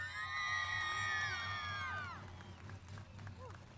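Speedway race fans at an IMCA Modified main event cheer, whoop and shout for the winning driver, a loud crowd roar that fades and thins into scattered yells, with a public-address voice talking over it.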